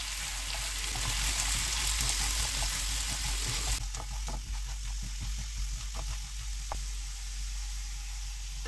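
Onions sautéing in a pan while butter chicken is being made, a steady broadband sizzle and hiss, moderately loud and continuous, with faint clinks of stirring through the second half and no talk.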